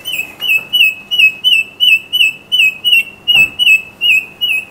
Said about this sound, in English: Very loud bird.